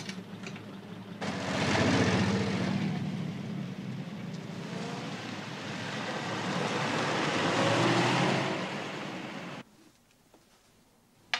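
A car engine rises at about one second and runs loudly and steadily as the vehicle pulls away, swelling again near eight seconds before cutting off abruptly near nine and a half seconds, leaving faint background.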